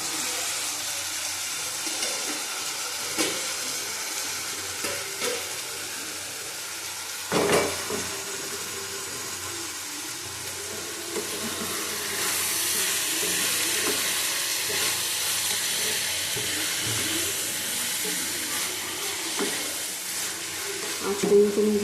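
Chopped ginger, garlic, green chilli and tomato fry in a pan with a steady sizzle and occasional stirring scrapes, the sound close and continuous for the whole stretch and growing denser partway through.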